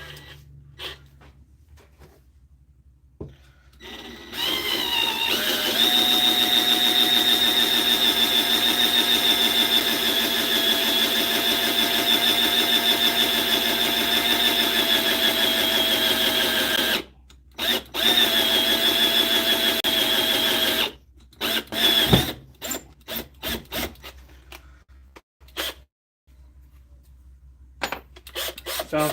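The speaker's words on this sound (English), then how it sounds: "Sounds like this drill's done." A cordless drill whines steadily for a long stretch while working on deer antlers, then runs in short stop-start bursts as its battery dies and falls quiet.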